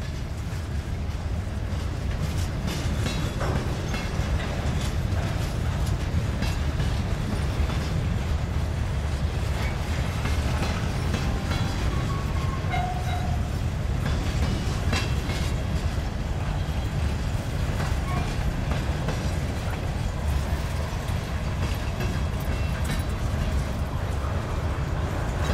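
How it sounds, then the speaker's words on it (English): A long Union Pacific coal freight train rumbles steadily past at a distance, a continuous low roar with faint rattling and clanking throughout, no voices. "Looks like he's got a pretty healthy train today."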